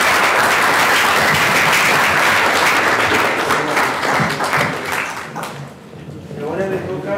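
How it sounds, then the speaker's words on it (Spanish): Conference audience applauding at a Chilean cryosphere society congress, a loud, dense burst of clapping that holds steady and then thins out, with a voice starting to talk as it fades. "Un aplauso para..."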